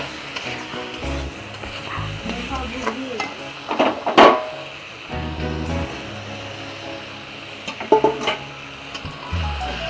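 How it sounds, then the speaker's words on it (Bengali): Cauliflower being stirred and fried in a spice paste with potatoes in a pan, giving a steady sizzle with repeated scraping strokes and a couple of sharp clanks of the spoon against the pan. "ফুলকপির সঙ্গে মশলাটা ভালো করে মিক্স করে নেড়ে চেড়ে ভালো করে কষিয়ে"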